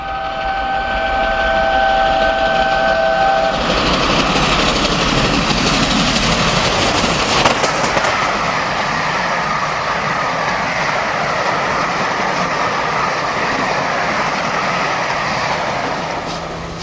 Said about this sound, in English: Flying Scotsman off-piste at Winchester with the VSOE in December